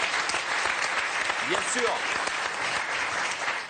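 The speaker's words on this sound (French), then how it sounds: "Ça s'applaudit quand même, ce truc-là" Steady applause from a French TV studio audience on a Sunday variety show, a dense continuous clatter filling the whole stretch while a voice speaks briefly over it.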